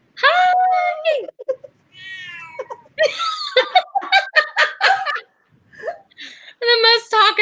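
Bello the cat meows repeatedly in drawn-out, wavering calls, loud and close, alternating with a person's laughter and brief speech between the cries.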